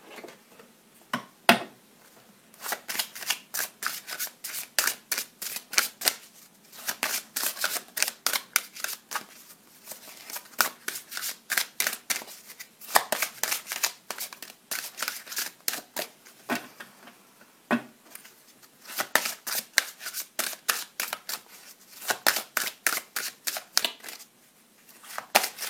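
A deck of tarot cards being shuffled for a reading: quick bursts of crisp, rapid clicking riffles, repeated many times with short pauses between, close and fairly quiet, with no talking.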